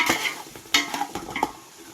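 Green chillies sauté in a pan for dum biryani, giving a soft sizzle broken by several stirring scrapes and light utensil taps against the pan.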